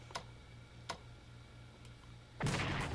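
Artillery fires in Strategic Command WW1, first as two sharp distant thumps about a second apart and a fainter third, then a louder, longer blast near the end over a low steady hum.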